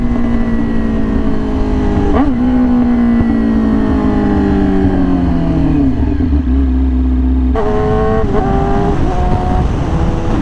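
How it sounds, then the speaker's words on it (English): A loud aftermarket exhaust on a Yamaha R6 sport motorcycle roars close by, its pitch sliding down as the engine settles, then snapping back up in a sharp rev. "I'm in love with this exhaust, you guys."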